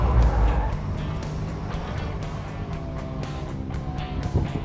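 A classic 1950s car with old suspension and soft, spongy tires drives through a corner while understeering. Its engine holds a steady low drone, with faint clicks and rattles from the body.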